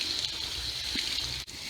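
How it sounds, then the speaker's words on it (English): Low-pressure water flows steadily while a K&N air filter is rinsed, a continuous close gushing hiss with no voices. "Rinse your filter with low pressure water from the clean side out in order to flush the dirt out of the filter."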